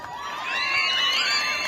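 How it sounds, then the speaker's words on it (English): Students at a school independence parade cheer and whoop as a crowd, a bright swell of children's shouting that rises and holds through the moment. "I love to hear the applause coming from the students."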